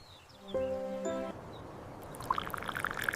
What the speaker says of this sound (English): I pour the tea carefully.